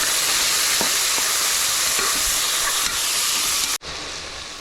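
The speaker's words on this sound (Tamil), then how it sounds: "அடுத்தது வந்து தக்காளி சேர்த்துடலாம். நல்லா வதக்கி விட்டுடலாம்." Tomatoes sautéing in a pan for beef sukka make a loud, steady hiss and crackle with a few faint stirring clicks, then an abrupt drop near the end before the frying noise returns.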